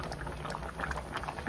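Corn cooking in a pot of boiling water in Negros, a steady soft bubbling and gentle liquid churn heard close and fairly quiet, with no voices.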